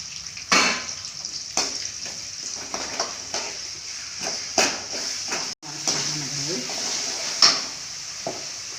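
Garlic fries in a pan at home, giving a soft continuous sizzle broken by repeated sharp knocks and scrapes of a utensil against the cookware.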